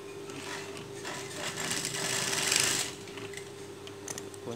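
Sewing machine stitching a child's dress, running steadily as a continuous whirring hum that grows louder midway, then settles back, with no talk.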